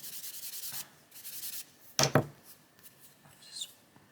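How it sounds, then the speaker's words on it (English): Coloured pencil bits being scraped off a paper colouring page, close dry rubbing strokes, a quick rhythmic run of scrapes and then two sharper louder scrapes, alone without talking. "Just scrape that off."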